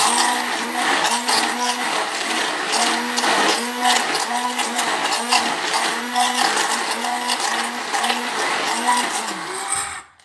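A blender runs loud and continuous while whipping garlic and salt into homemade mayonnaise, its motor whirring with a slightly pulsing churn before cutting off abruptly at the end.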